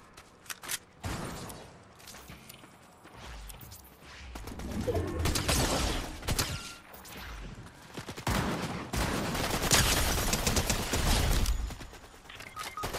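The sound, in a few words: SMG gunfire in the video game Fortnite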